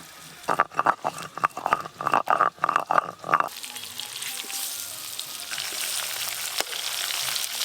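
Spice-coated red bhetki fish shallow-frying over a low flame, a steady close sizzle with a run of rhythmic scraping or turning strokes at the start, then a continuous bright hiss alone.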